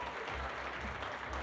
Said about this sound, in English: Julia Rasmussen, big applause, come on.